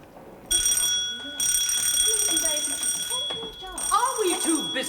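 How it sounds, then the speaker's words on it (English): An electric alarm bell rings in a UK prison, a steady high tone that starts, pauses briefly and resumes loudly for most of the span while people talk over it. "Just see that those bells are answered."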